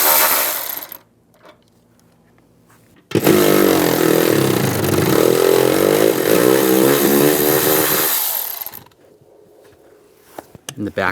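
Power tool with an E18 socket spinning nuts off a 2007-2013 Chevrolet Silverado during EVAP core replacement: a loud sustained whirring run of about five seconds between quieter mechanical clicks and handling noise.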